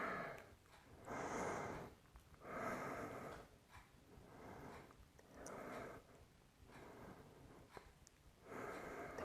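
Slow, audible breaths during a yoga exercise, close and soft, with several long airy exhales and inhales rising and falling in an even rhythm.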